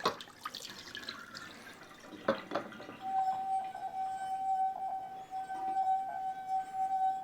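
A wet wine glass rubbed around its rim sings a steady, pure tone at the low end of its range. It rises out of faint water splashes and handling noises and holds, slightly wavering, to the end.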